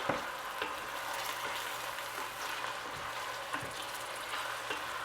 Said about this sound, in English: we saute the onions in olive oil